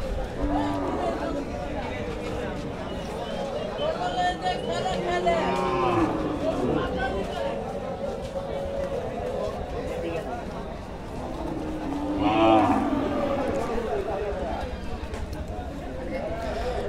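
Cattle low and moo at a busy Hazratpur–Paragram cattle market before the qurbani festival, with loud calls near the start and again around midway, over constant crowd chatter and nearby talking.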